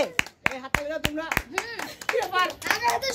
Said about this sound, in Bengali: সবাই জোরে তালি।